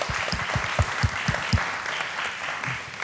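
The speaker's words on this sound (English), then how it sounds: "That deserves a round of applause." A business studio audience gives a round of applause: several louder claps stand out near the start, then scattered clapping continues for about three seconds without speech.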